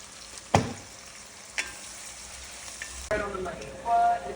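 Chopped sweet onion and fennel bulb frying in a pan on medium heat, a low steady sizzle with a few sharp clinks and stirring scrapes, the sizzle swelling louder near the end.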